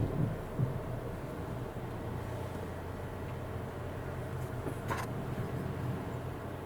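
A Volvo XC pulls itself out of a parking spot under its park assist system, a low, steady engine and tyre rumble heard from inside the cabin, with a couple of faint clicks or chimes.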